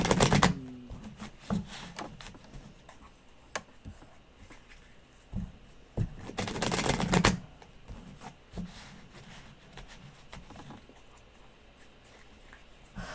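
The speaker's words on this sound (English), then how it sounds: "I do love shuffling these because they're so perfect sized for me." Tarot cards being shuffled by hand, with a loud riffling burst at the start and another near the middle. Quieter taps and card handling fill the gaps, close up, with no voices.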